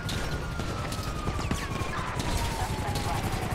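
Sniper and rifle gunfire in the video game GTA 5, with a dense rattle of shots over engine drone and a falling whine, while people talk.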